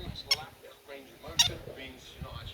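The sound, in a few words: green-cheeked conure parrot calling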